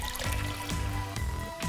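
A cup of water is poured into sugar in a pot for red hot candy apples, making a steady close trickling and splashing wash with a few brief louder gurgles throughout.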